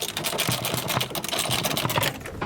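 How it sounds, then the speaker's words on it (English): Regular socket wrench ratcheting a bolt out during a Ford diesel heater install, a rapid, close run of dense clicking strokes that continues steadily for about two seconds, with no talk. "we'll go ahead and just a regular socket wrench and get this out"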